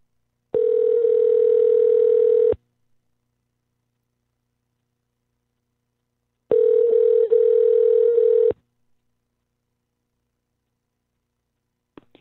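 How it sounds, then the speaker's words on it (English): Outgoing Skype call to a phone: two long steady ringback tones a few seconds apart in otherwise silent space, with a faint click near the end. "Using Skype to call his phone."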